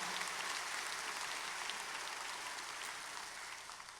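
Worshippers at a Korean War memorial church service applaud the speakers, a dense wash of clapping that carries on for a few seconds and then gradually thins and fades.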